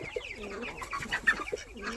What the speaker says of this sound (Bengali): আমার দাদা দুটো মুখী পায়রা আমাকে দিয়ে গেছে এখানে রেখেছি দুজনকে